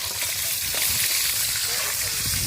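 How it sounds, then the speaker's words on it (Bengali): A large rohu fish head drops into hot oil in a village kitchen wok and fries with a loud, dense crackling sizzle that continues steadily throughout. "এই যে গরম তেল আমরা মাছ ছেড়ে দিলাম"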